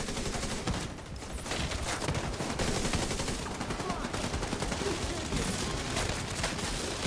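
Continuous hip-fired gunfire in The Division 2, a dense, steady clatter of shots filling the whole stretch with game sounds layered over it.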